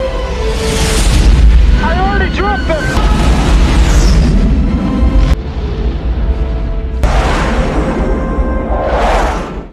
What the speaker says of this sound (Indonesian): salah satu dari mereka sudah terlanjur menjatuhkan bom